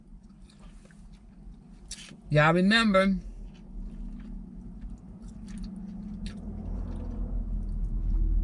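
Pork belly in ramen chewed in a car: soft wet squishy mastication and small bites close to the mic, with a brief loud hum-like voice burst in the middle and a low engine rumble underneath.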